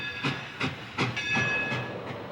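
A Chicago and Eastern Illinois passenger train, the Zipper, rolls along the rails with rhythmic clickety-clack beats about every third of a second, over a steady metallic hiss and rumble.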